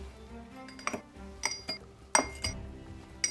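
Red ice cubes dropped one after another into a cocktail glass, giving several bright clinks and chinks at uneven intervals, close and clear with no talk.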